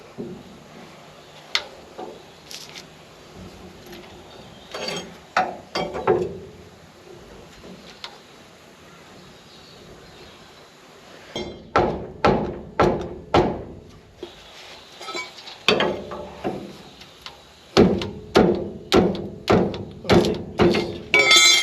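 A pry bar levering a rubber bush into a leaf spring shackle, with scattered knocks at first, then bursts of quick rhythmic thumps and clunks as the bar is wriggled, loud and close with no talk.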